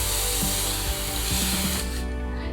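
A Bounce 3 in 1 spray can is sprayed onto fabric at a shirt collar. It makes one continuous, close, loud hiss lasting about two seconds before cutting off.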